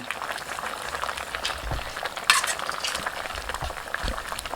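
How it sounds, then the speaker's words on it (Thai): Catfish curry with wrapped noni leaves bubbling in a pot while a utensil stirs it, soft simmering bubbles and scattered scrapes and clinks, with one sharp metallic tap partway through, close and without talk. "คนได้แล้ว แม่คนให้ใบยอจม"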